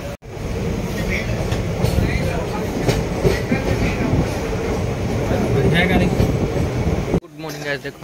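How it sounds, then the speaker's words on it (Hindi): A train at a railway station in Odisha produces a loud, steady rumble with clattering and mechanical noise that cuts off abruptly near the end. "ट्रेन रुकी है रेलवे स्टेशन पे"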